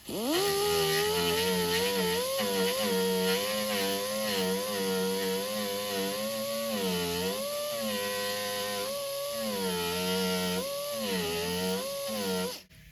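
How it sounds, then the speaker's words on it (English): An angle grinder dug into the holes of a Schoneck carbon fiber bumper gives a loud, close, continuous whine whose pitch dips and rises as the load changes, then cuts off at the end. "we're just going to take our angle grinder, and we're just going to dig a little crater right on the hole"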